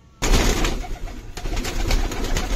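Pigeons cooing softly in a group, a steady murmur of low coos with some rustling, nearby and fairly quiet.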